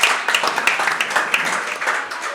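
Applause for a school maths quiz team of upper primary pupils, a short burst of clapping from a small audience with voices mixed in.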